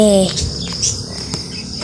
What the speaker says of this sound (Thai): ในคลิปผมมันมีแบบเสียง เสียงจิ้งหรีดนะ